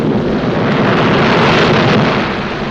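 Pounding surf effect from a vintage Superman cartoon: a loud, continuous roaring wash of broadband noise with no break, sustained throughout and fading slightly at the end, with no talk over it.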